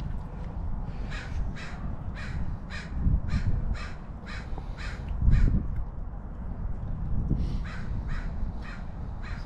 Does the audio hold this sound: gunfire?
no